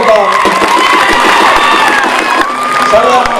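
A large crowd at an outdoor political rally cheers and applauds loudly and continuously, with shouting voices mixed into the steady roar.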